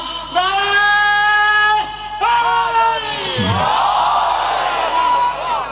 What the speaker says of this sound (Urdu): میرے نعرے کا جواب دیجیے گا